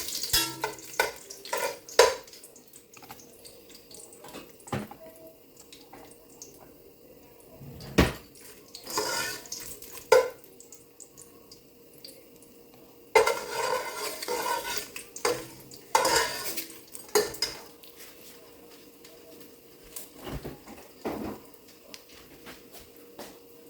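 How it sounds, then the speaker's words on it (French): Smoked fish head frying in a pot, heard as a quiet sizzle broken by intermittent clatters, scrapes and utensil knocks against the pot, with bursts of louder activity and no speech. "faites frire d'abord votre tête de poisson fumé comme ça"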